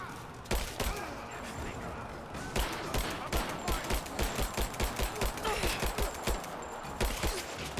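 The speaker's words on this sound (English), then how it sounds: "Yeah, I definitely use the hollow point rounds." Rapid bursts of gunfire from hollow point rounds in the video game Rise of the Tomb Raider, a dense, loud volley of repeated sharp shots with a short pause before the firing resumes.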